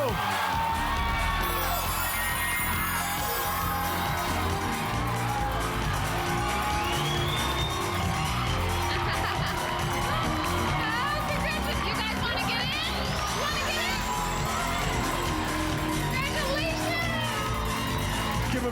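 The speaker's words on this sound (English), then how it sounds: "Give a big round of applause." A game show studio audience cheers, whoops and applauds loudly and without a break, with excited shouts over the din.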